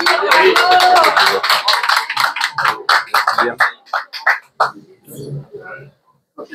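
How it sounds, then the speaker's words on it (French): An audience applauds after an inspiring speech by Philippe Val. A burst of clapping thins into scattered claps and fades, with a few voices and coughs near the end. "Est-ce qu'on peut encore l'applaudir?"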